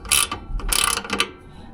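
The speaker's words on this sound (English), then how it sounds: "ratchet wrench because it's going to fit in here a lot easier than the socket" Ratchet wrench tightening a bolt while assembling a US General Series 3 five-drawer tool cart: two short bursts of quick metallic clicking, close and clear, with a brief pause between them.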